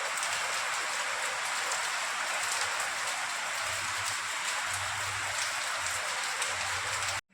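Rain falls steadily, a dense, even patter on surfaces with no pauses, heard alone at moderate volume for several seconds before it cuts off.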